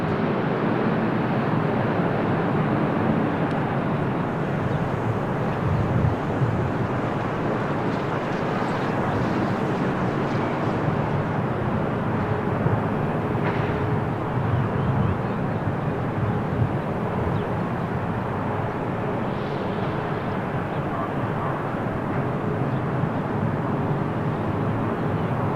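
Finnair airliner at Lisbon Airport on a windy day, a steady distant jet-engine roar blended with wind rumble, sustained and even throughout, with no talking.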